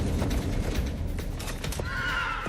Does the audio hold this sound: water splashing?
no